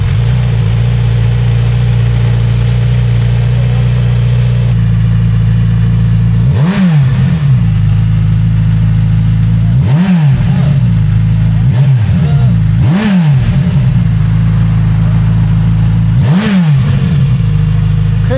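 A Kawasaki motorcycle with an aftermarket exhaust and no catalytic converter idles loudly and close, broken by several sharp throttle blips that rise and fall, with steady low rumble throughout.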